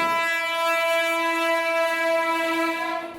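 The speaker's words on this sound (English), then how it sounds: "speeding trains" A fast train rushes past nearby, loud and steady, with a sustained tonal horn blaring throughout and no voices.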